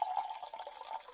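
Unfiltered cider pours from a bottle into a glass, a soft, steady liquid splash and trickle lasting about a second, quiet and close with no voices.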